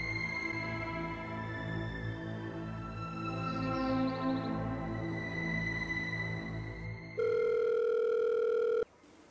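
A telephone call rings through with a steady tone, a sustained layered hum followed by a louder, flat ringback tone near the end, heard alone without talk.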